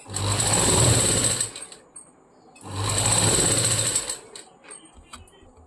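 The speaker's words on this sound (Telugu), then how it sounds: "ఇదిగోండి మొత్తం ఇలాగ డబల్ ఫోల్ మీద స్టిచ్ చేసుకుంటూ వచ్చాను" A sewing machine runs in two sustained bursts, stitching piping thread along a double-folded fabric edge, loud and close with a brief pause between runs and faint handling noises after.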